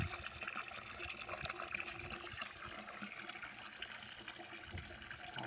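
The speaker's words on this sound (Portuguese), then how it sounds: "Vou esperar encher de água aqui." Water pours steadily into a water tank used for raising fish and growing taioba plants, a continuous splashing, trickling rush that stays close and fairly even throughout, with no voices.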